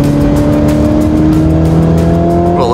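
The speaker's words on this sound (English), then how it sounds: "I got a Gallardo, put winter tires on it, and I shoved my snowboard onto the passenger seat, and up we went" Lamborghini Gallardo on winter tires climbing a snowy mountain road, heard from inside as a loud, steady engine drone with sustained tonal hum throughout.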